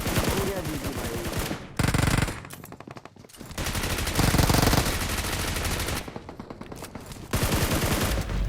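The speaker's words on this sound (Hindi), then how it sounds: "अभी हमारी होगी गन फाइट, वो देखो।" Rapid automatic gunfire during a BGMI video game gunfight, loud bursts of machine-gun fire separated by brief pauses, close and dense.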